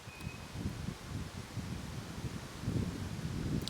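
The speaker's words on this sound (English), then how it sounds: "It is quite windy out here today" Steady wind buffeting the microphone, a low rumbling roar with gusts that swell louder toward the end, no voices.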